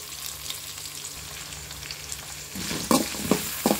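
Crushed garlic, onion and curry leaves sauté in a pan with a steady close sizzle, and near the end several sharp spatula scrapes and knocks stir them; no talking.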